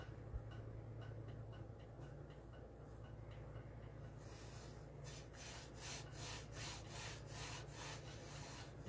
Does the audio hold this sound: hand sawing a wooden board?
yes